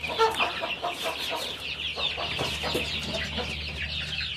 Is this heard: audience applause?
no